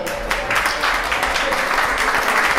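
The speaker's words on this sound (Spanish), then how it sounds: "Un aplauso, por favor." A crowd claps steadily, a dense wash of applause that keeps up from start to finish without dying down.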